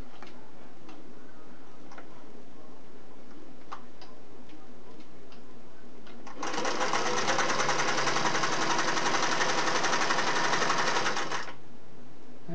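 A Singer Model 401A sewing machine stitches with two needles in a rapid, even, close mechanical clatter lasting about five seconds. Quieter ticking and faint handling sounds come before and after it.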